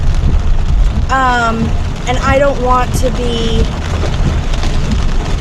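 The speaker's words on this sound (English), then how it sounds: "it just started pouring." Heavy rain pouring down at night, a steady loud broadband wash throughout, with a person talking over it.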